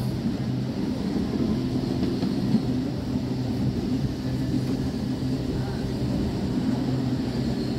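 The Purba Express passenger train passing, heard as a steady, loud low rumble and rolling drone that holds without a break the whole time.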